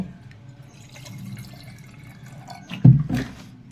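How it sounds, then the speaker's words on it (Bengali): Ganges water poured into a vessel during a home Ganesh puja, quiet room tone at first, then a short close splash and trickle of liquid near the end, with no talking. "ফার্স্টে আমি একটা পাত্রতে গঙ্গা জল ঢেলে নেব"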